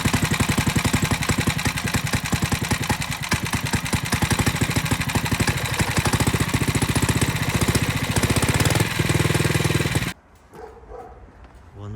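Small Honda GX50-style 4-stroke bicycle engine kit running close and loud, a rapid, steady chattering putter for about ten seconds before cutting out abruptly into quiet handling noise.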